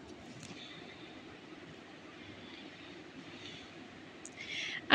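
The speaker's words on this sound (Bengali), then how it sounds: "আর এই তো দেখতে দেখতে আরেকটা ট্রেন আমাদেরকে ক্রস করে গেল।" A train passes at a fairly busy station, heard as a faint, steady low rumble that swells into a brief louder burst at the very end.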